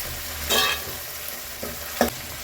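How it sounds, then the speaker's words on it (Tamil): Onion and tomato sautéing in a pan for egg kulambu, a soft sizzle under a few distinct scraping stir strokes close by, no talk. "இப்போ வெங்காயம் நல்லா வதக்கி விட்டுலாம்."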